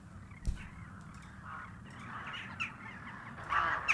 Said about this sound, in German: Jetzt sind die Vögel hier.